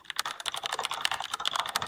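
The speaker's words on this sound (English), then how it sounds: "Here you can find the most trending sound effects like the keyboard typing" Rapid, uneven keyboard typing sound effect, a close, crisp flurry of key clicks at a moderate level with no voices.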